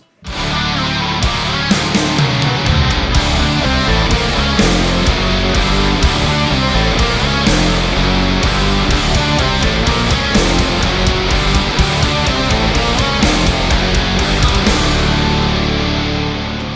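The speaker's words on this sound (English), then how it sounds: "a completely free guitar plugin that sounds amazing" Heavy distorted metal guitar through an STL Ignite Emissary amp sim plugin plays a dense, driving riff with chugging palm-muted notes, loud and continuous with no talking.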